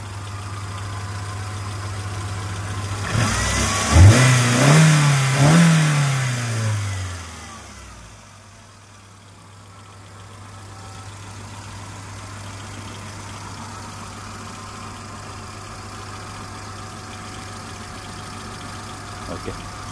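A 2006 Hyundai Santro Zing engine revs hard for a few seconds, then drops back to a steady, quiet idle that runs on to the end with no one speaking.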